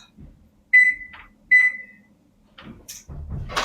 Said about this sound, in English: I'm going to put my timer on for 22 minutes.